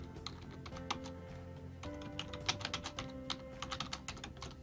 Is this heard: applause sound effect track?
no